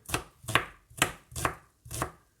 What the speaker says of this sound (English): all we're going to do is just chop the veg up and just back it in.